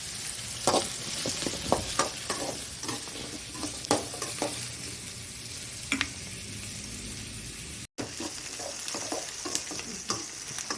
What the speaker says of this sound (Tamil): பாருங்க வெங்காயம் நல்லா வதங்கிடுச்சு.